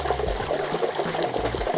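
A whole turkey is lowered into hot oil for deep frying, giving a loud, continuous bubbling, sputtering hiss that rumbles and churns up close, with no talk.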